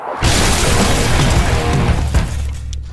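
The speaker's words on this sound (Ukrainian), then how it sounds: "Ого, ось це і справді був потужний бум." A loud, sustained dynamite blast bursts open giant corn into popcorn in a video game, a broad roaring boom lasting a few seconds before cutting off.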